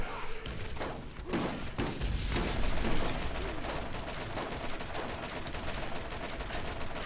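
Rapid, dense gunfire from the Borderlands video game rattles in quick bursts at moderate loudness, packed with thumping impacts and continuous shooting.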